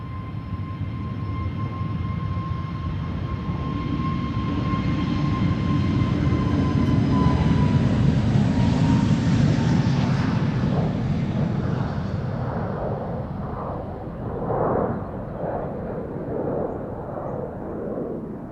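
A young KLM jet, registration PH-AXD, departs runway 36L Polderbaan at Schiphol with a moderately distant engine drone that builds gradually, carries a steady whine, then fades into a fluttering rumble as it leaves.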